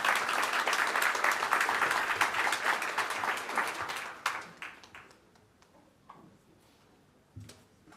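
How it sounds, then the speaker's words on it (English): Audience at an economics forum applauding a Federal Reserve Board governor, loud sustained clapping from a crowd that thins after about four seconds into scattered claps, thumps and near silence. "If you could please give her a round of applause."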